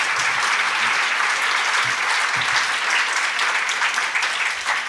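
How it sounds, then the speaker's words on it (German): Audience at an evening panel discussion applauding the event's moderator, a dense, even wash of clapping that stays steady and close throughout with no voices. "Auch großer Applaus für Sie,"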